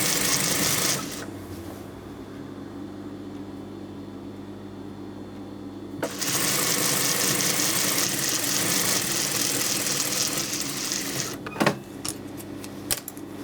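A sewing machine runs while stitching a kameez, a steady mechanical hum that quiets down, then rises again for several seconds with a few sharp clicks toward the end.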